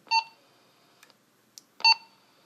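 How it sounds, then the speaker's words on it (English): Two short electronic beeps with bright harmonic tones from a Motorola CP200 two-way radio keying up, separated by nearly two seconds of quiet with faint clicks in between. "It just beeps when you key up. One beep."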